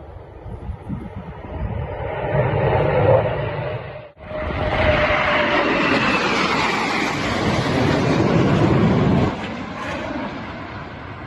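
An Indian-built Tejas light combat fighter jet passes overhead with a loud, continuous roaring rush that swells and holds before easing off, a brief dropout partway through.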